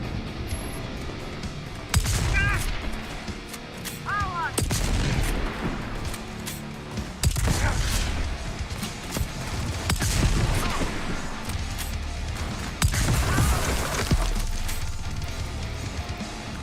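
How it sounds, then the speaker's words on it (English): Heavy shotgun blasts in Starfield, a modded space shooter game, boom out one at a time every few seconds over a dense, noisy game soundscape, each report sharp and loud with a rumbling tail. "Shotguns are so cool."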